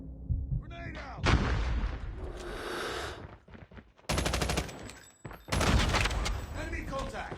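Gunfire and grenade explosions in the mobile game Call of Duty Mobile, with heavy booming blasts and rapid bursts of shots in several loud bursts broken by short gaps, with voices calling out between them.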